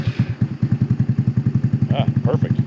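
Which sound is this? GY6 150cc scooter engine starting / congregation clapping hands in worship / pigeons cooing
GY6 150cc scooter engine starting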